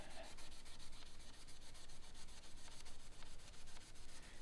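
Sandpaper rubbing back and forth over the metal frets of a Grote GR35MT guitar, a steady close scratchy hiss with rhythmic strokes throughout, no voices.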